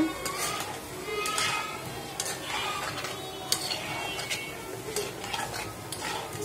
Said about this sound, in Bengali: এখন নেড়ে চেড়ে সম্পূর্ণ লাল করে, বাদামি লাল করে উঠে ফেলবো